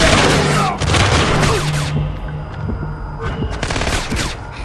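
Heavy gunfire in Splinter Cell: Conviction on Xbox 360: dense, loud volleys of overlapping shots and booms that keep going through the whole stretch, with no talk.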